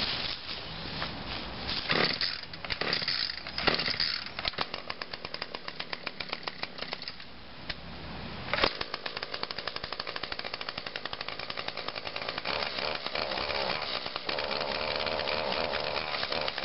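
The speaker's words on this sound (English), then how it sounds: "HC150 hedge trimmer" An HC150 hedge trimmer runs during October lawn cutting, a loud, continuous buzzing two-stroke engine with rough revving bursts early on, then a steady drone, heard alone.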